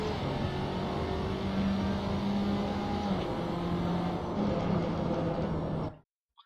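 Race car engine in the Assetto Corsa sim racing game droning steadily through a lap, holding loud sustained tones with small pitch shifts before cutting to silence near the end.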